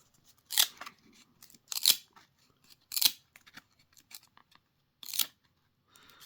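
Stuck-together 1994 Score trading cards are peeled apart, giving several sharp, close tearing rips spaced about a second apart, with small crackles in between.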